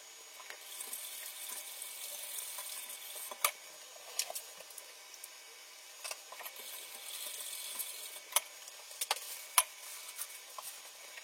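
Milk and water heat in a cooking pot and begin to boil. A faint, steady hiss runs throughout, broken by scattered small pops and clicks, with no voices.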